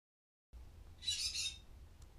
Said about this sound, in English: that bird's gonna drive me insane